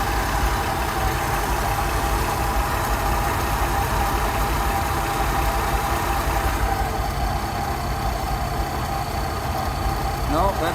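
A Rolls Royce Silver Shadow engine idles steadily while its carburettors are tuned, a continuous low mechanical hum and rumble at close range with faint knocking, joined by a brief scraping noise near the end.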